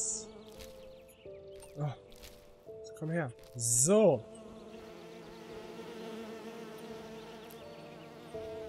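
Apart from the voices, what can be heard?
buzzing bees in the video game Skyrim Enderal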